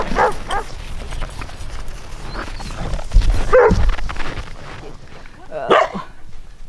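A dog barks at a rural homestead in Russia, a few loud sharp barks and yips spread irregularly among nearby speech and outdoor background noise.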